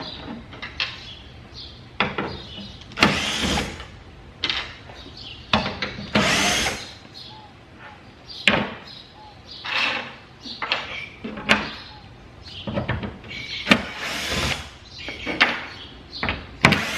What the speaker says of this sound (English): using a drill is going to be much more efficient